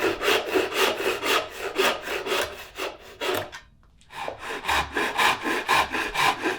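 A saw rasp works steadily across a wooden corner of a simple bookcase at 45 degrees, loud rhythmic back-and-forth rasping strokes up close, with a short pause midway before the strokes resume.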